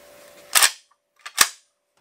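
A pump-action 320 shotgun with a polymer stock and polymer foregrip is racked back and forward, two sharp close clacks about a second apart with a slightly plasticky edge, in otherwise quiet surroundings.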